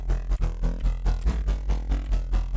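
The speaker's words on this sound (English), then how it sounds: "Going to widen the sound a little bit more with the dimension." A thick Serum synth chord, widened with a dimension effect, pulses in a quick, even rhythm with heavy low end and a wet, spacious shimmer, loud and alone for a few seconds.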